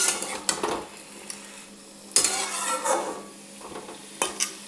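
Spinach cooks in a pan with no spices added, with soft sizzling under a few scraping stirs and clinks of a utensil against the pan, and no talking.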